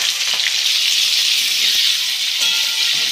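Cauliflower frying in plenty of hot oil in a pan, giving a loud, steady, dense sizzle that runs unbroken throughout with a few faint clinks and stirs, no voices.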